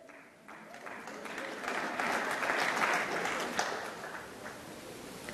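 Audience applause at a plenary conference session, clapping that rises after a quiet start, peaks in the middle with a few sharper claps and then fades, heard at some distance.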